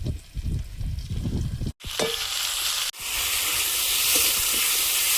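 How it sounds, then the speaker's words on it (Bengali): Potatoes coated in a ground paste of ginger, cumin and green chili sauté in a pan, with scraping stirs at first, then a brief pause before a strong, even sizzle settles in close by. "ভালোভাবে কষিয়ে নেবো যাতে আদা আর কাঁচা লঙ্কা আর কাঁচা গন্ধটা চলে যায়"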